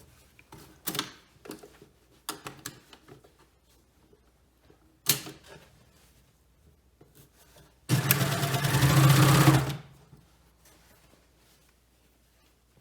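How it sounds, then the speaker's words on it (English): Sewing machine stitching a stretched hem band on a bomber jacket: scattered clicks and handling at first, then a loud, close, continuous whir of stitching for about two seconds before it stops. "I'm only going to be sewing from this first pin all the way to the last pin, stretching the band in between to fit"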